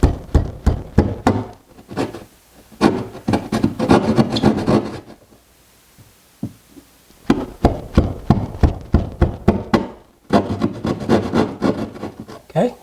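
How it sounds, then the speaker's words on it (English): A drywall saw rasps back and forth through drywall while cutting an opening for a range hood under a cabinet, delivering bursts of rapid close strokes separated by a brief pause and a couple of light knocks. "we're going to use the drywall saw"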